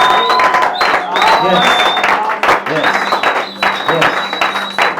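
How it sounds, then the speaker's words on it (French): A church congregation claps and cheers at a worship service. Steady applause mixes with high whistles and loud shouted voices throughout. "Dans le nom puissant de Jésus, commence à acclamer pour le Seigneur. Acclame pour le Seigneur."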